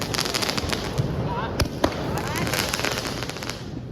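Diwali firecrackers burst outdoors during a family celebration, a steady crackle of repeated sharp pops with a few louder bangs standing out, as people talk over the noise.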